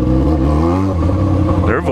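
Modified, lowered cars at a street meet idle and rev nearby, their engines a thick, throbbing drone that rises into a sharper rev at the end.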